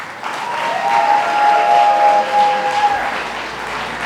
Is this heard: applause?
yes